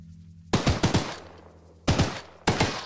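Gunfire from a weapon in the Choo-Choo Charles video game: a rapid burst of four sharp shots, then two more single bursts after a pause, loud and close over a low hum.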